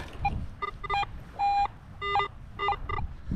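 A Garrett AT Pro metal detector on a beach gives a series of short electronic beeps in varied tones, some held slightly longer, close and clear over faint background noise.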